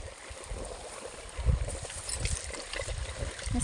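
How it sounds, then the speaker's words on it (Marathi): Water from a solar-powered pump flows into a wheat field, a soft gurgling trickle with splashy bursts close by, faint and outdoors. "पाणी चालू इकडे सोलारचं"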